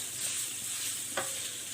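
Spices worked into chicken cooking in a pan for shawarma, a quiet continuous sizzle with a light stirring scrape and one brief utensil knock partway through.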